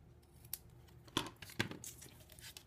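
Scissors snip through organdy ribbon at a crafting table, two sharp close cuts with faint rustling of material around them.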